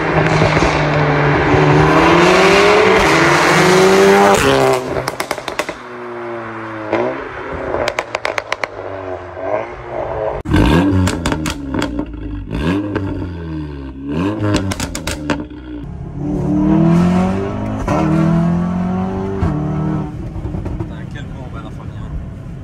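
Golf 7R with a stage 2 straight-pipe exhaust revs hard, its engine note rising and falling in repeated loud sweeps, with people talking over and between the revs throughout.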